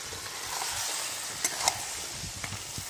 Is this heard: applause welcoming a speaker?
no